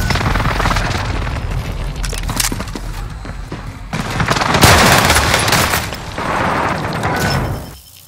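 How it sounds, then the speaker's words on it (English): Enemy precision airstrike explosions in a military shooter video game hit as a dense run of heavy booms and crackling blasts. The loudest swell comes midway, and the sound stays close and forceful until it fades at the end. "Enemy precision airstrike."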